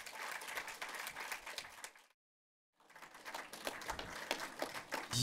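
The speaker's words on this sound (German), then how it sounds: "Nochmal Applaus, Kilian Riethoff" A cinema audience applauds film director Kilian Riedhof with dense, crackling clapping that cuts to a brief silence, then resumes just as full.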